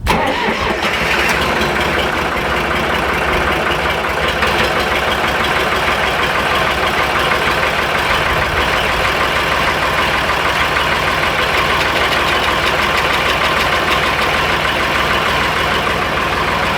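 A tractor engine turns over and catches on a cold start, then settles into a steady, loud idle that runs unbroken throughout with no talking.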